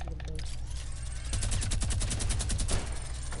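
Video game gunfire strikes a building, a steady stream of rapid, fairly loud shots that grows denser partway through and continues without a break to the end.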